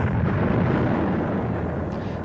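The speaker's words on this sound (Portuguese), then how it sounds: "Então houve uma explosão naquele vácuo chamado de Big Bang" A deep, continuous roaring blast stands in for the Big Bang, a broad rumbling explosion that fills the whole stretch at steady loudness and thins slightly toward the end, with no voices.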